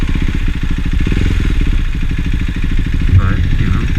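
A KTM Duke 390 motorcycle engine, running lean under Euro 5 tuning, drones steadily up close with a low, throbbing rumble and a light mechanical clatter that lasts throughout.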